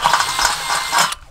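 A power drill boring a hole with a larger bit, started slowly while welding a motorcycle trailer hitch carrier, gives a steady close grinding, ratcheting whirr that runs for about a second and then cuts off abruptly.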